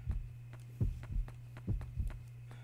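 A heartbeat effect in the horror game Yomawari: Night Alone, soft paired thumps repeating at a steady pulse over a constant low hum, faint and alone.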